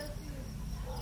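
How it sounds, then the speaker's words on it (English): Crickets chirp in a faint, continuous trill outdoors by a lake, with no other sound standing out. "I don't know if you guys can hear the crickets."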